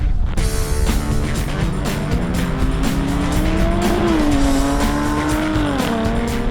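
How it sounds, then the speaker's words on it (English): A Rolls-Royce Wraith Black Badge accelerates hard in a wet-weather drag race on a test track, its loud engine note climbing and shifting through gears amid tyre and road noise. "Look at that Rolls go."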